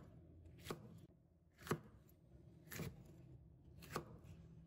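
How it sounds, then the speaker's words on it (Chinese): A knife chops a seeded chili pepper into angled roll-cut chunks on a board, four evenly spaced sharp strikes, close and clear with no talk. "再改刀把它切成滚刀块"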